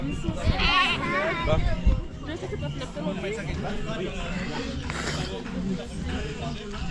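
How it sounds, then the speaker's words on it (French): A goat bleats at a trail-running race refreshment station, its wavering cries rising over steady crowd chatter and nearby voices. "Oh la chèvre."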